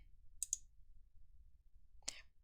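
Two sharp mouse clicks sound close against near silence, a quick double click early on and a single click a moment later.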